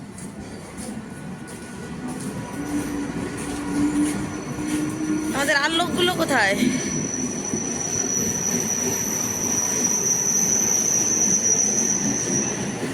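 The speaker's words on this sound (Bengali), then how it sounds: "যা বাবা, চলে গেল ট্রেনটা।" A train pulls away from a station on a trip to Digha, its wheels screeching and squealing on the rails over steady rumble, while people talk nearby.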